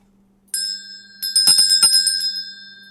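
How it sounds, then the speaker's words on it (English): A small hand bell rings in a few clear, bright strikes, first a single tone then a quick cluster of rapid rings, fairly close and alone over a faint steady hum. "I was ringing the bell"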